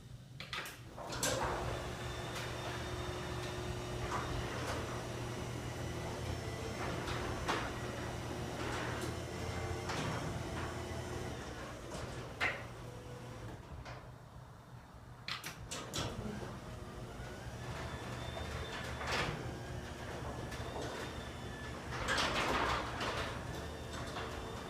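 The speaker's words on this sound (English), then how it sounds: "here's a quick video of what the garage door sounds like" A garage door driven by a Craftsman 3/4 HP belt-drive opener on an Overhead Door Company door with nylon wheels rolls along with a steady motor hum, periodic clunks and rattles as panels pass, and a pause midway.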